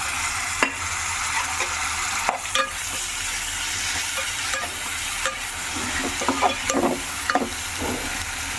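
Onions and a large tomato fry in a pan, with continuous sizzling and intermittent spatula stirring clicks, close and without any voices.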